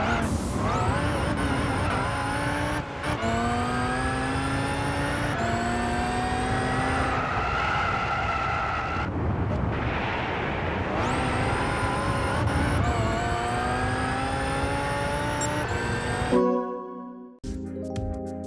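A Bugatti Veyron 16.4 '09 engine in the Gran Turismo 6 racing game climbs through repeated rising revs with gear shifts, loud and continuous, then cuts to a brief different tonal sound at the very end.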